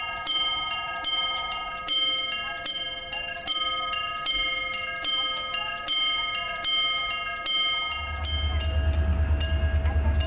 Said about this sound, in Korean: 서대전역에서 출발하여 대전선을 타고 온 화물 열차가 경부선 상행 무궁화호를 먼저 보내기 위해 건널목을 천천히 통과하고 있습니다.